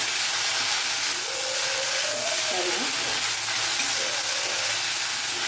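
Coriander leaves and stems sautéing in a pan for mint chutney give a steady, even hiss that holds through the whole clip, with a faint voice briefly in the background.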